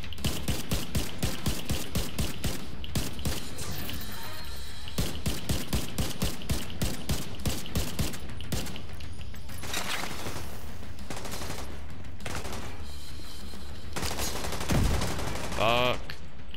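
Gunfire in The Division 2 comes as rapid automatic bursts of loud shots in regular rhythm, with pauses between volleys and scattered single shots near the end.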